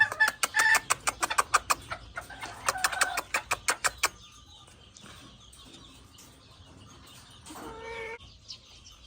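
Rapid, rhythmic clucking from chickens and a rooster up close for several seconds, then quieter background with a single brief call near the end.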